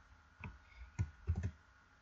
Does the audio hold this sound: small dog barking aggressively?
no